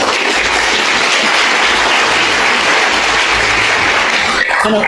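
An audience claps continuously, a dense, even roar of many hands at a strong level, with no single claps standing out and a brief dip right at the end.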